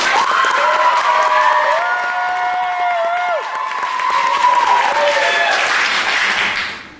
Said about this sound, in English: pray applaud for your favors when I point to them again